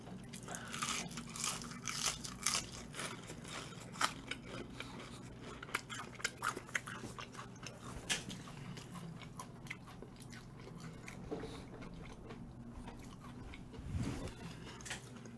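Bites and chewing of a handmade burger dipped in milkshake, close and quiet, with soft crunchy bites and wet mastication sounds scattered throughout, no talking.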